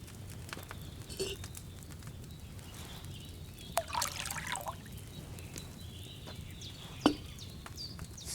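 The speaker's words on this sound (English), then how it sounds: "First, you have to pour the right base into the cauldron." Wine poured from a pitcher into a cauldron in Kingdom Come Deliverance 2, a soft trickling patter running faintly through the clip with a few brief clinks and splashes, no talk.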